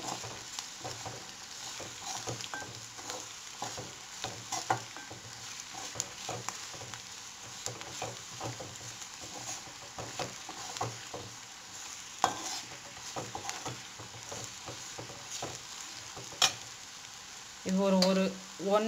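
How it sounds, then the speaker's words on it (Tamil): Coriander, chilli and turmeric powders sauté in oil for a tomato curry, a soft steady sizzle with frequent light stirring scrapes throughout and a short burst of speech near the end. "இந்த எண்ணெயிலே நல்லா வதக்கணும்"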